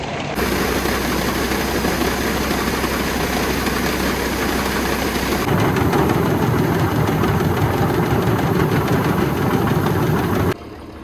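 A grain auger runs steadily as it fills a grain bin from a full wagon, a loud continuous mechanical drone with a deep motor hum that shifts to a rougher churning tone partway through, then drops near the end.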